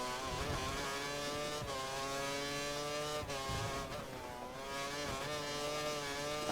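Formula One race car engine in the F1 2013 video game at the Bahrain circuit, screaming loudly and continuously with rising harmonic pitch sweeps through gear changes, close and steady throughout.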